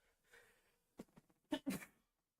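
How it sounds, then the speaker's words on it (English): A soft, close sneeze: a brief intake followed by a couple of sharp bursts, then silence. "Actually, I do have to sneeze."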